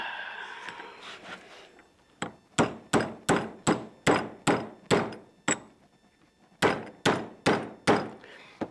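A hammer drives a bearing into a zero-turn mower deck. About a dozen sharp metallic blows come close up in two steady runs with a short pause between them, after a brief stretch of muffled handling sounds.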